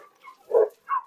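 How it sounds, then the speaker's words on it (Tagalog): A German Shepherd gives two short, close barks, the first louder and lower, the second a higher yelp, with a faint whine just before. "Tumatahol siya kasama si Isabel"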